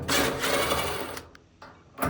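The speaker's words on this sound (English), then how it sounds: "So we're gonna grab our Phillips head, and then we're gonna remove these two next." A screwdriver whirs while backing out screws from the door switch of a Whirlpool dryer. The whirring is close and loud, with a brief pause and clicks before it resumes.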